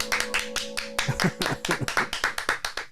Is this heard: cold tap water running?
no